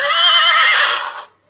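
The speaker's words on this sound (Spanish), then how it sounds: "El caballo." A horse lets out a single loud, clear whinny lasting just over a second, a shrill wavering neigh that tails off into silence.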